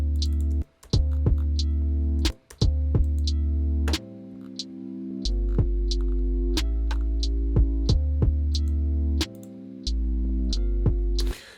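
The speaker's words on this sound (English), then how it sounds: "I just use the bass and I go to the sine bass and I remove the reverb" A sine bass synth from Nexus with the reverb removed plays a dry, deep sustained bassline, its notes starting and stopping with brief gaps of silence, over a sparse ticking beat.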